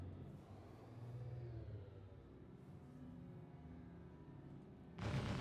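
A weapon fires in the space game Star Citizen, one abrupt loud blast near the end that cuts through a steady low vehicle rumble, with no voices.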